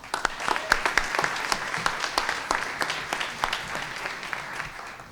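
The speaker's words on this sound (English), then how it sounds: "Let's give Sara a warm round of applause" Warm audience applause at a city event for a food action plan, a modest crowd clapping with sharp, distinct individual claps standing out over a continuous patter.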